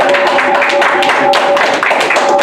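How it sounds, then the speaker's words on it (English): Studio audience clapping for a returning guest, dense close handclaps in an uneven patter, loud and steady for a couple of seconds with a faint tone underneath. "Give him a round of applause"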